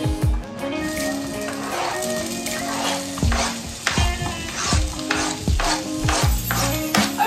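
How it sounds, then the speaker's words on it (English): Onion, chili, garlic and ginger for Filipino Bicol Express sizzle loudly in a hot pan, with steady crackling and occasional bursts of spattering and stirring. "while that is just frying for a little minute"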